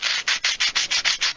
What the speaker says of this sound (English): I use these little sanding blocks right here